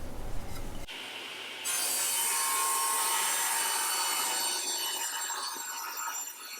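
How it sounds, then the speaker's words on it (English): A table saw rips rough sawn cedar boards into narrow slats, a loud steady whine and rasping cut that kicks in after a short quieter start and holds nearly to the end. "we're going to be cutting our slats on this table saw"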